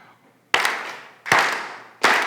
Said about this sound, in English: Let's do 3 claps together.